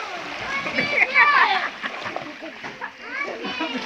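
Water splashes and sloshes continuously while children shout and talk over it as they swim, close by and lively, in Sitio Rawang, Tanay, Rizal.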